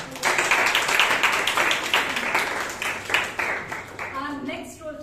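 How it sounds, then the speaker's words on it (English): Toastmasters club audience in Bangalore clapping for a speaker, a moderate burst of applause from a modest room that fades out as voices come in near the end. "Let's give him a round of applause."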